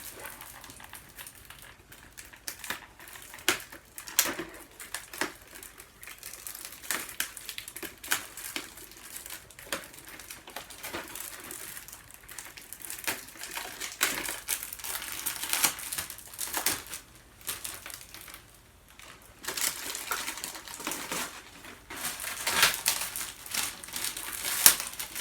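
A cardboard advent calendar is opened by hand, giving a steady run of crinkling, tearing and light tapping close up with no talk.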